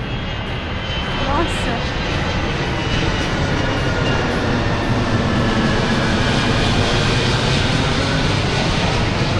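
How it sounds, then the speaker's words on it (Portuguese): A fixed-wing airplane passes overhead near the airport in Guatemala City, a loud, steady engine roar that swells and holds throughout, with a brief exclamation at the start. "E olha o avião passando."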